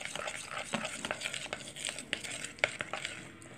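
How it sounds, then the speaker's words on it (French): Water is stirred into salt dough in a bowl, a close, quiet run of repeated scraping and sloshing strokes with a few sharper clicks of the utensil against the side. "Ensuite, je vais touiller, touiller, touiller. Jusqu'à ce que ça forme une pâte"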